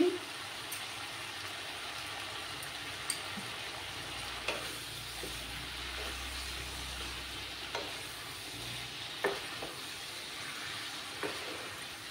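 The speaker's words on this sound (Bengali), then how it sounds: "আরও কিছুক্ষণ এইভাবে আমি কষিয়ে নেব" Bengali-style small fish curry masala sautéing in a pan, a continuous sizzle broken by occasional scraping stirs and light taps, close and moderately loud.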